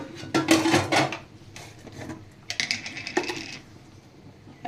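A metal spoon stirs payesh, a sweet rice pudding made with sticky rice and date palm juice, in a pot, giving close clinking and scraping against the sides in two short bursts with quieter gaps, no talking.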